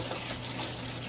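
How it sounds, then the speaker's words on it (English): Tap water runs steadily into a sink for washing dishes, a constant broadband rush at fairly low level with no talking over it. "And then you add water to it"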